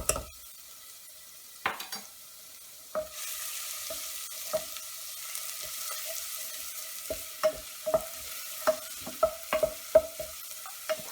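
Minced ginger and garlic frying in a pan, a soft steady sizzle broken by sharp clicks of a utensil stirring and scraping, the strokes coming faster and more regular toward the end.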